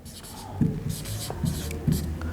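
Pen scratching across a board or paper while writing out the full form of DNA, quick scribbly strokes in bursts under someone speaking softly.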